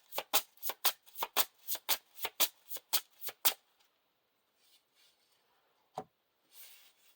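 Playing cards being shuffled for the Lord of the Rings living card game, a quick run of about a dozen crisp riffling bursts, close and clear, followed by near silence and one sharp tap.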